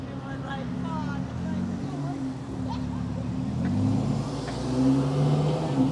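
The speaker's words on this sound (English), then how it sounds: "Give it a rev." A supercar engine revs on a London street at a rally meet, a low, rumbling engine note that rises and swells through the clip under general outdoor background noise, with faint voices around.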